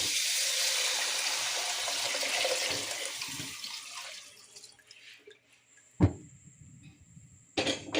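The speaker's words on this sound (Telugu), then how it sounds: "వాటర్ అనేది ఇప్పుడు యాడ్ చేస్తాను" A steady stream of water pours and splashes into a vessel for several seconds, then fades out, followed by a couple of faint clinks and drips.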